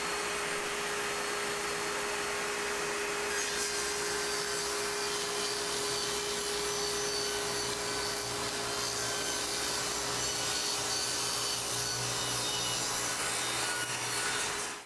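A SKIL table saw rips plywood with a dust collector running, a steady loud broadband roar of blade and air with a constant motor hum throughout, the cut deepening in pitch midway before spinning down at the end.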